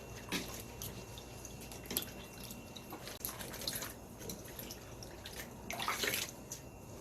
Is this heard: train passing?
no